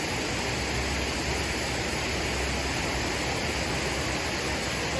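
Velo de Novia waterfall flowing, a steady, loud broadband rush of falling water that stays constant from start to finish with no voices over it.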